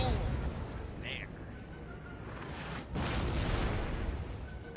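Artillery units bombarding enemy howitzers in the strategy game Napoleon: Total War, with low rumbling booms and bursts under continuous talking.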